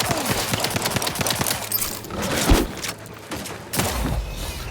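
Rapid pistol gunfire in the video game The Outer Worlds 2, a dense burst of repeated close shots followed by a heavy thud and scattered fainter impacts.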